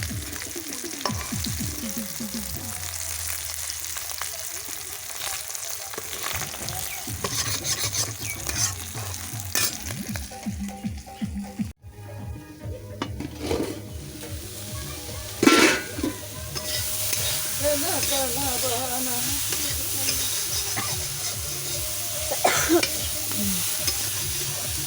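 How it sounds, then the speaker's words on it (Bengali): Small chuno fish frying in a pan, a steady sizzle running throughout with repeated stirring and scraping of a utensil against the pan, close and moderately loud, with no talking. "এই চুনো মাছগুলো আমি রান্না করব এক্ষুনি, মানে ভেজে নেব"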